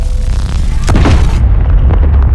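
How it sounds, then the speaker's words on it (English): A fixed artillery cannon in Space Engineers fires with a single loud, deep boom, followed by a heavy rumbling roar that carries on to the end. "the artillery cannon"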